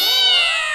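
A cat gives one loud, close meow, a single drawn-out cry that slides slightly in pitch.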